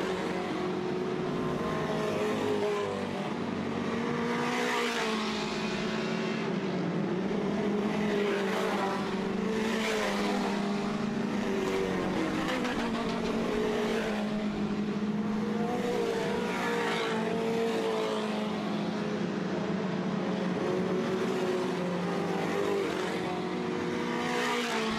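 Dirt track race cars running door to door at Southern Ontario Motor Speedway, a dense roar of several engines rising and falling in waves as they pass, loud and continuous for the whole stretch.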